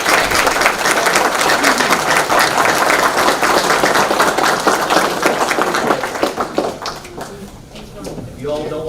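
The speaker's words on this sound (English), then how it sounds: "let's give a round of applause for our" Audience applause at an Ashland city commissioners meeting: loud, dense clapping from a room of people that thins out near the end, where a speaker's voice returns.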